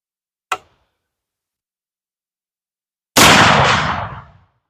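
A black powder 10mm Interceptor round fired at a steel target outdoors: a faint, sharp crack, then a few seconds later a loud, close blast with a decaying rumble.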